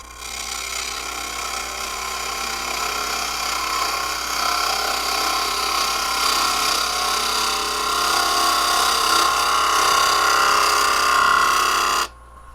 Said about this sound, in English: I'm going to go ahead and use the 5/8 inch bowl gouge to get this outside